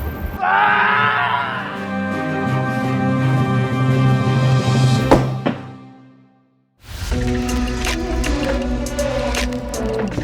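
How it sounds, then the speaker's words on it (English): Tipu's Tiger, a mechanical tiger mauling a victim with a small organ inside, sounds a wavering wailing scream over droning reedy tones, breaks off into brief silence, then resumes the groaning drone. "There's an organ inside that mimics the tiger's growling and the victim screams."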